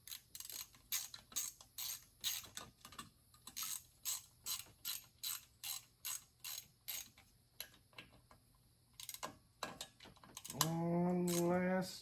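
Ratchet tightening the last screw on a 1975 Briggs & Stratton engine: a rapid series of close, crisp clicks in a regular rhythm, then a short pause and a brief squeaky, grinding turn at the end.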